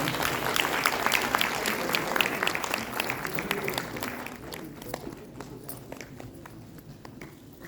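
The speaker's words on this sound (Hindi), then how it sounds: "कृपया जोरदार तालियों से आप लोग" Audience members at a retirement ceremony applaud in a dense burst that gradually thins and fades into a few scattered claps before the end.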